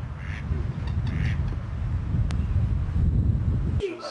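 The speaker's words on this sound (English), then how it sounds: "Male mallards there. Oh no, they're female" Several female mallard ducks quack outdoors, giving a few short, nasal calls at moderate distance. The calls sit over a constant rumble of wind buffeting the microphone.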